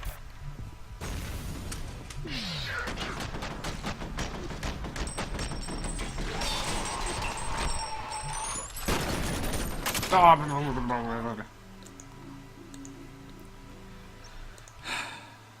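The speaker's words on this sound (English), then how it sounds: "Suppressing fire." Sustained bursts of automatic gunfire in the F.E.A.R. Extraction Point video game, a dense rattling fusillade with mechanical clatter running for about eleven seconds before dropping to quieter game ambience.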